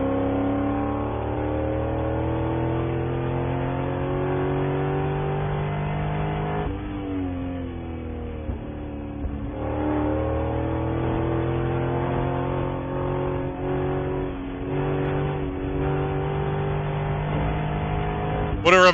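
Spec Corvette race cars roar around Laguna Seca, the engines droning steadily with rising and falling revs as they pass through lap traffic, while a commentator talks over them.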